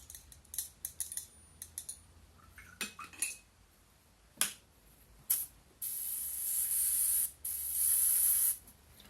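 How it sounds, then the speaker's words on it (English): An airbrush loaded with thinned paint, used on a Van Saar ganger miniature, gives a few clicks and short taps, then two long, steady hissing sprays close up, with a brief pause between them and no talking. "Thinner in the airbrush."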